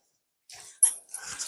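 A small dog lets out a few short, high whimpers and yips indoors, close by and fairly quiet, after a brief silence, with no talking.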